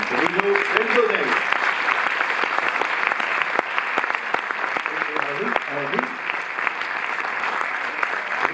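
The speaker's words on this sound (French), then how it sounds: "vous pouvez peut-être l'applaudir" Steady audience applause fills a cinema hall at the Cinémathèque in Paris during a presentation of the Coen brothers' Fargo, continuous throughout, with a voice speaking briefly over it near the start and again later.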